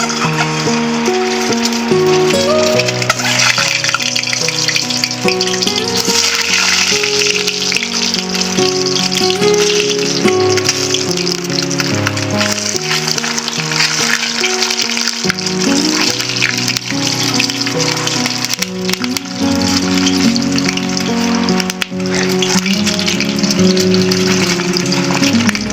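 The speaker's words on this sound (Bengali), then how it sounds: "এবার আমি ডিমটাকে ভেজে নিচ্ছি।" Eggs fry in hot oil in a wok, browning, with a loud, continuous, dense sizzle and bubbling that runs unbroken for the whole stretch.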